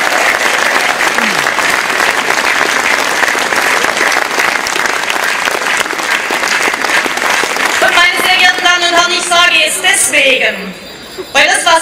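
Loud, sustained applause from a large crowd at an outdoor political demonstration in Stuttgart, continuous clapping and some cheering filling the whole stretch before thinning out near the end.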